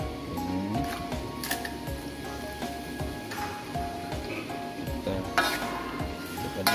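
Fried chicken pieces stirred through onions, garlic and a little water in a hot pan for a sweet spicy soy-sauce chicken dish give a soft, wet sizzle with scraping and squishing spatula strokes, steady and close, with no talk.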